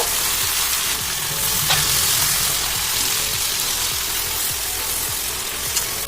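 Beans, potato and eggplant are sautéed with a little water in a pan, producing a loud, steady frying sizzle with faint stirring scrapes underneath, close and continuous.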